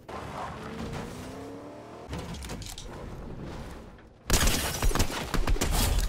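Sharp bursts of rapid gunfire in Fortnite crackle loudly after a stretch of quieter engine-like rumble and shifting game ambience.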